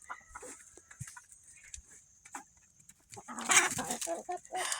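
Leghorn chickens cluck in short, scattered bursts, quiet at first and then busier and louder near the end, with a faint high hum behind.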